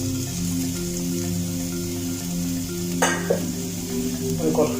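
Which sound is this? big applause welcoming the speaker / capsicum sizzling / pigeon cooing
capsicum sizzling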